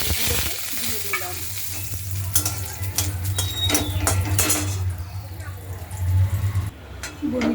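Sun-dried lentil dumplings (bori) fry in hot oil with a continuous crackling sizzle, broken by sharp metal spatula scrapes and clinks against the pan, close and fairly loud.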